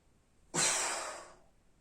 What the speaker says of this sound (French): en expirant fortement